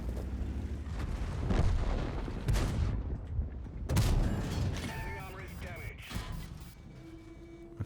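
Tank guns boom repeatedly in a World of Tanks battle, heavy low blasts with rumbling tails, the loudest near the middle, while a voice talks over the gunfire.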